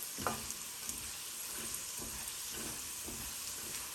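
Steady hissing sizzle of pine nuts frying in a hot pan on medium heat, with a few soft stirring scrapes, quiet and continuous.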